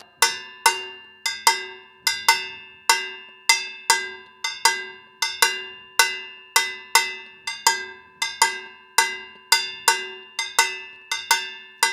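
Timbal cowbell struck with a stick in a fast contra campana pattern for salsa and son, sharp ringing hits in a steady syncopated rhythm, close and clear with no other sound.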